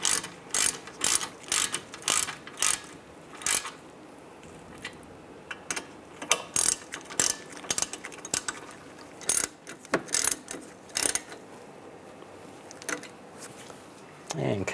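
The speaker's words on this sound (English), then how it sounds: "Now you want to tighten these bolts down." A ratchet tightens the caliper bracket bolts during a strut assembly replacement on a 1998–2010 Volkswagen Beetle, with sharp clicking strokes in irregular bursts and pauses, close and clear, while someone talks over parts of it.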